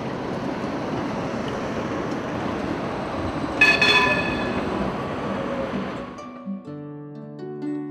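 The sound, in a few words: tram humming along in Bratislava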